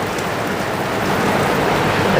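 Heavy rain pours down in a steady, dense hiss, loud and close, splashing in under a shelter and holding level throughout with no clear words.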